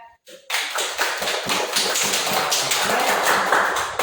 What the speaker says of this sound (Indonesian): kita berikan semua dulu aplaus untuk kalian semua ya